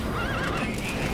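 A horse in the video game Metal Gear Solid V: The Phantom Pain gives a loud, close whinny with wavering pitch over the clatter of hooves, with no talking.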